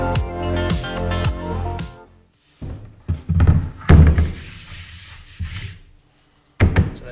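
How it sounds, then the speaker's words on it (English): Wood being sanded by hand for a modern Adirondack chair, with rough rubbing strokes and a few knocks of the piece shifting, while a tonal background hum plays loudly through the first stretch. "I'm going to go quickly sand that line off."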